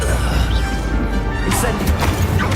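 A dark Crucio curse is cast in a Hogwarts Legacy battle: a dense, roaring magical crackle with a bright crashing flare midway, loud and continuous over the fight's din.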